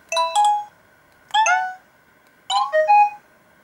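An LG GB110 mobile phone plays its original ringtone: three bright, tuneful bursts of chiming notes, each about half a second to a second long, separated by short pauses over a steady faint tone, close and clear.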